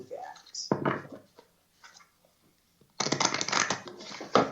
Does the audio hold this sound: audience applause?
no